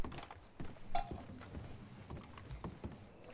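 Horse hooves in Red Dead Redemption II, a steady clip-clop of hoofbeats at moderate distance, fairly quiet and heard on their own.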